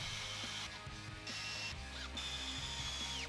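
Screws driven into wood with a power driver, the motor whining in steady, loud bursts that change pitch as each screw seats, with no talking.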